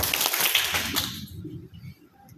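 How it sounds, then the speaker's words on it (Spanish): A group in a stress-management class claps together on cue, a dense burst of overlapping hand claps lasting about a second, then quieter room murmur. "Un aplauso."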